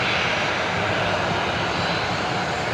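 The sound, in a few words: Airbus A330 aircraft departing Brisbane Airport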